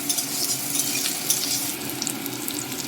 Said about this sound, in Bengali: একটু তেলটা কটর কটর করছে এবার দিয়ে রাখছি কুচি রাখা পেঁয়াজ